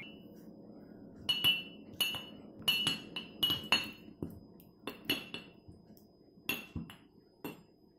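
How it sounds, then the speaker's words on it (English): Pitted cherries pressed with a muddler in the bottom of a glass for fruit-flavoured lemonade, giving a run of sharp glassy clinks and knocks in irregular bursts, close and fairly loud, with no talking. "Use the muddler."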